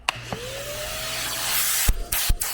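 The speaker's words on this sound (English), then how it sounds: "we're gonna vacuum it, and we're gonna really carefully clean those butterflies as well" A small vacuum whirs steadily up close, cleaning the throttle butterflies of an Aprilia Timbersled, with a few sharp clicks and knocks as the nozzle bumps against a surface.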